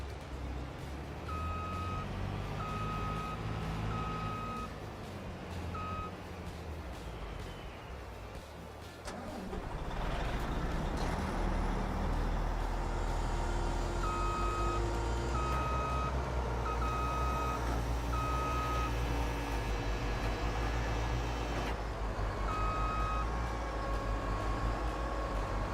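Farming Simulator 22 truck backing up, its reversing alarm sounding in steady repeated beeps over a continuous engine drone, with a brief pause partway through before the beeping resumes.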